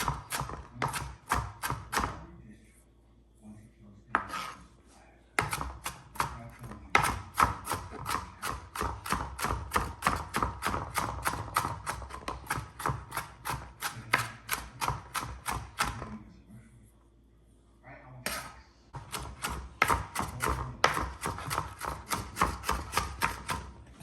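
Knife chopping vegetables on a cutting board while making homemade hamburger steak, a fast, steady run of sharp close taps with two brief pauses, no talking.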